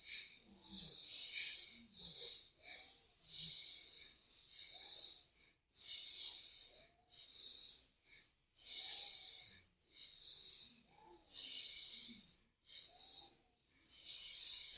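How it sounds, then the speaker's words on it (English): Slow, deep belly breathing during a guided meditation, with long airy inhales and exhales alternating in an even rhythm, close and clearly audible with no talking over it. "start breathing from the belly, looking inside, belly breathing."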